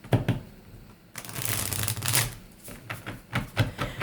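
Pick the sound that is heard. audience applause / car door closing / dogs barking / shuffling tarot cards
shuffling tarot cards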